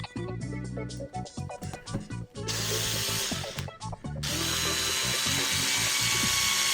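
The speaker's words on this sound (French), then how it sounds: "Alors moi j'utilise un tournevis électrique." An electric screwdriver drives screws into a gear-type differential for a 1/8 scale off-road RC car, with short bursts of whirring and clicking in the first half, then longer continuous runs of the motor, close and loud.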